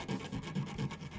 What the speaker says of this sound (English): grab a little chainsaw file or something